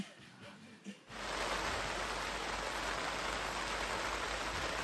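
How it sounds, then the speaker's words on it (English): After a brief quiet moment, steady rain suddenly begins, a dense, even hiss of drops falling on surfaces that continues loudly and without pause. "So the rain finally caught up to us."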